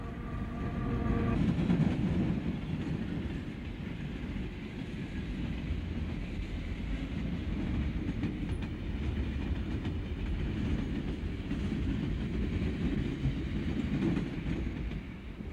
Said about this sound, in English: train speeds through Hagen.